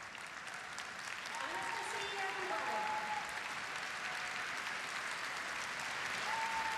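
Arena crowd applauding steadily after a figure skater's short program at an ice-skating competition in Espoo, a continuous broadband clatter of clapping filling the hall, with faint voices over it.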